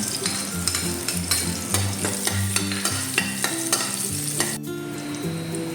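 Garlic sautés in a pan for a chicken liver dish, giving a steady, close, crackling sizzle with scraping stirs in a loose rhythm throughout.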